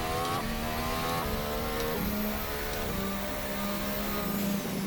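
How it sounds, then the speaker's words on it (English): A 2018 RSS Formula Hybrid car in a racing simulator revs loudly and downshifts, its engine note stepping down as the turbo wastegates blow off and dump boost pressure off the throttle, all steady and close with no talking. "You hear the turbo wastegates blowing off there as we get off the throttle, dumping that boost pressure"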